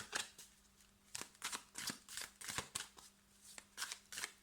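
Oracle cards being handled and drawn, with close, quiet riffling and sliding of the cards in repeated short bursts and no talking.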